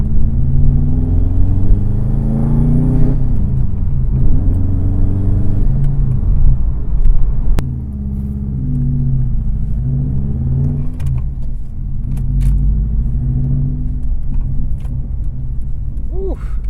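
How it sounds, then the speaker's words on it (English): The 2004 Subaru WRX's boxer engine gives a steady rumbling exhaust note from close by. It rises and falls with gentle revs and shifts, and light speech is faintly audible over it. "These boxer engines have a really distinct exhaust note"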